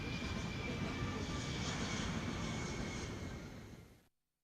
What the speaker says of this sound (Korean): 쿠바 인민의 친선의 사절들을 태운 비행기는 수도 시민들의 환송을 받으며 이륙했습니다